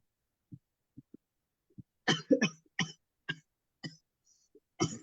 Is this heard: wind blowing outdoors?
no